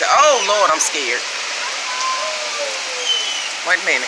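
Heavy rain pours down in a steady, loud wash during a tornado warning, with a frightened voice talking over it at the start and again near the end.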